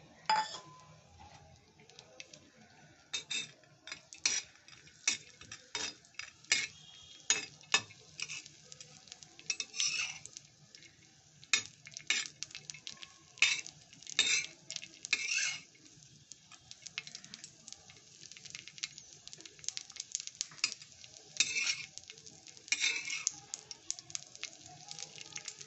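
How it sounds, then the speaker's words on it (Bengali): Cashews and raisins fry in a little ghee on a tawa, giving a soft, steady sizzle broken by frequent light clinks and scrapes of a utensil against the pan, close and moderately quiet throughout. "এদিকে আমি একটু তাওয়ার মধ্যে একটু ঘি দিয়ে কাজু কিশমিশটা ভেজে তুলে রাখবো"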